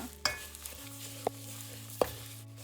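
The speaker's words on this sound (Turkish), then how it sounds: "Tam 20 dakikadır sabırla helvayı karıştırarak kavuruyorum" Semolina halva with stuffing pistachios being stirred and roasted in a pan, a soft steady scraping hiss with a few sharp utensil clinks against the pan.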